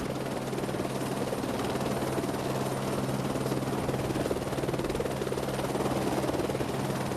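Helicopter idling on a ship's flight deck before launch, a steady loud rotor and turbine drone with a constant buzzing hum throughout, no voices.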